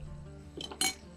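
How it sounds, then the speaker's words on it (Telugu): A lid is set down on a pan of Telangana-style chicken fry with a couple of quick metallic clinks close by, the second sharper and brighter, against a faint background of cooking. "మూత పెడదామా"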